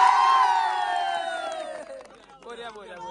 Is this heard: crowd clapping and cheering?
yes